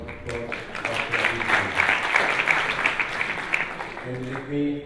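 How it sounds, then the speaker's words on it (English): An audience at a technical seminar on bankruptcy law gives a sustained round of applause lasting several seconds, dense and moderately loud, with a voice speaking before and after. "Let's give a round of applause"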